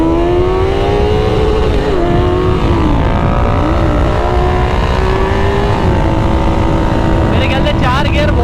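Honda CBR 650R sport bike pulling hard in a drag race, its engine note climbing steadily and loud throughout, with a voice talking over the roar.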